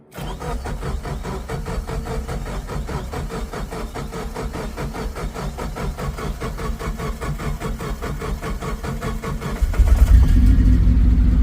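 A Suzuki Samurai engine catches and runs at a steady, loud idle after fuel filter work, then revs up more heavily toward the end, heard close with no talk.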